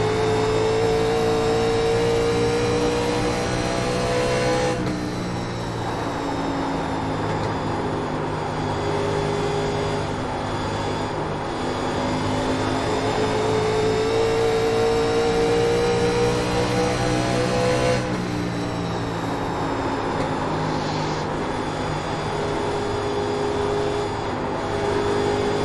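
A 1987 NASCAR Legends race car engine in the iRacing sim at Dover drones loudly and steadily throughout, its pitch climbing and falling through gear changes with sharp shifts near the start and end.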